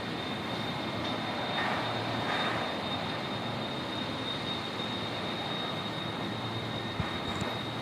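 A rare Boeing 747 arriving at Brisbane Airport gives off a continuous broad jet roar with a thin steady whine on top, filling the whole stretch without pause.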